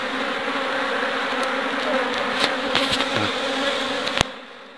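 Honeybees buzz steadily at an opened hive right after the colony has swarmed, a dense continuous hum close by, with a few faint knocks near the end before it cuts out.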